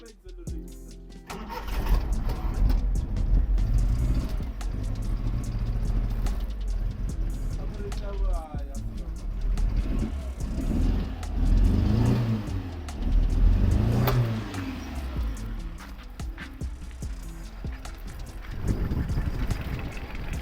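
A Nissan 1400 car engine starts and runs, idling and revving as the car moves off, a steady low mechanical drone with swells in loudness and a person talking at points.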